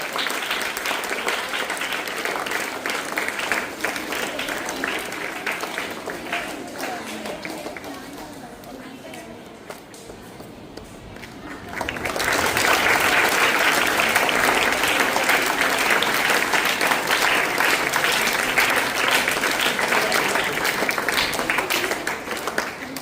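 Audience applause at a school felicitation event, a long stretch of rapid many-handed clapping that dips partway through and then swells back louder, with voices faintly mixed in.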